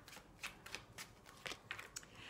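Tarot cards shuffled and drawn, a soft sequence of quick papery flicks and snaps, about eight light strikes at an uneven rhythm, close and quiet with no talking.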